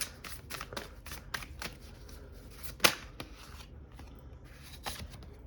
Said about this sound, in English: I want to pull one more tarot card here.